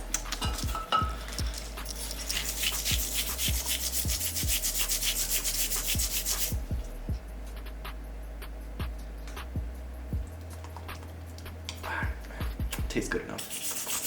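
A car brake part being scraped down by hand, a run of rough rasping strokes with sharp clicks and knocks, heard close up and fairly loud, easing off midway and then picking up again.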